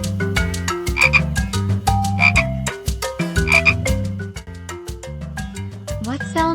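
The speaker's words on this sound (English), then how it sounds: "What sound does a frog make?" Frog croaking in a children's animal sounds song, repeated throaty croaks in a regular rhythm layered over bright musical backing.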